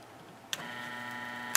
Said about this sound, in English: Let's see how the motor sounds with no load on it.